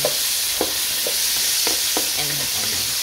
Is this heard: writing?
no